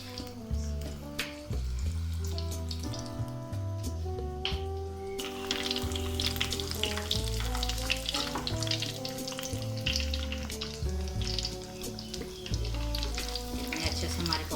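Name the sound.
breaded chicken popsicles deep frying in oil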